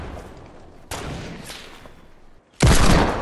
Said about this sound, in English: Watch out, I hear people shooting.